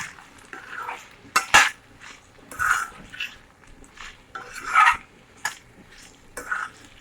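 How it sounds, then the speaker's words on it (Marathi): A spoon stirs a potato vegetable dish in a pan, giving repeated metallic scrapes and clinks in an uneven rhythm, close and fairly loud. "मध्ये मध्ये थोडी हलवायची चमच्याने थोडं हलवून घ्यायचं आहे"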